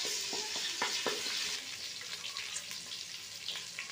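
Whole garam masala spices with garlic and ginger frying in hot oil in a pot, a steady close sizzle with a few sharp stirring clicks and scrapes early on, no talking.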